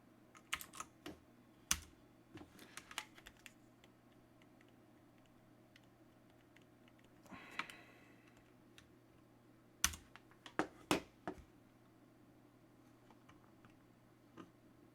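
Computer keyboard typing in quiet bursts, clusters of close, crisp key clicks separated by pauses, over a faint steady hum.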